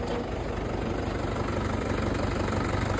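A Rhino tractor's diesel engine idling close by, a loud, steady low throb with a rhythmic knocking pulse that holds unchanged throughout.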